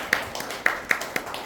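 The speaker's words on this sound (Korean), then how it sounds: "박수로 환영해 주시기 바랍니다." Scattered, fairly quiet clapping at an association's annual general meeting, a few sharp individual claps spaced out rather than a full ovation.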